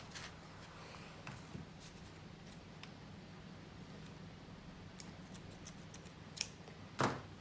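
Faint scissors snip paper in a quiet room, a few scattered light cuts, with a louder snip near the end.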